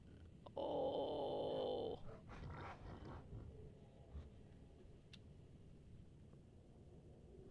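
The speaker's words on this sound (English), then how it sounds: "Not wolves. Not dogs." Dogs or wolves growling in the video game Icewind Dale, with a low rumbling growl under a brief loud tonal burst early on, followed by quieter grunting and snarling at moderate distance.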